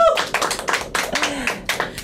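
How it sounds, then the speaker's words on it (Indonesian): Audience clapping at an Indonesian talk show, a burst of hand claps in uneven clusters close by, with voices and cheering mixed in. "Tepuk tangan dong."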